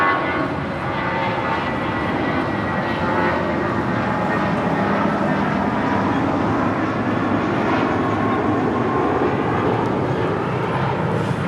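A United Airlines A320 departs runway 25 right at LAX, its jet engines a loud, continuous broadband roar that holds steady and close throughout.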